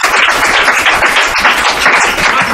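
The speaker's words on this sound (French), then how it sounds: "On applaudit," Applause from an audience at an evening of fantastical storytelling, a dense, steady wash of clapping hands lasting the whole moment, fairly loud and close, with no pauses and no voices standing out.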